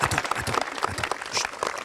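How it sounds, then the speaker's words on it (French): Brief applause from a small group of people at an informal gathering, a few dense bursts of hand claps running steadily close by for a couple of seconds. "C'est là que tu dois applaudir"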